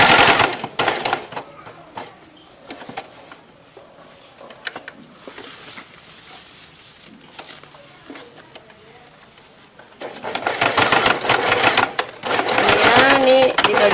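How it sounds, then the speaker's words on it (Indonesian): Sewing machine stitching the lining of a crocheted granny square bag, rattling in loud fast runs at the start and end with quieter, sparser stitching between. "kita lanjut lagi jahit."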